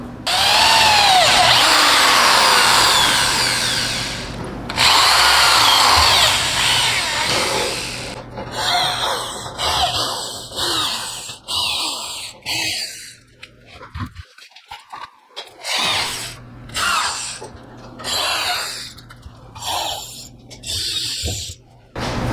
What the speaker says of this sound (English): So I've got these all drilled